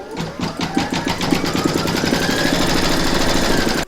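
Embroidery machine stitching an in-the-hoop stacked Christmas tree design, running a securing outline round over batting: a steady, fast mechanical needle rhythm, close and loud, continuing without pause until it stops abruptly at the end.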